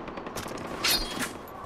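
Gunfire in the Far Cry 4 video game, a few sharp distant shots cracking over low ambient background noise, with no talk during the clip.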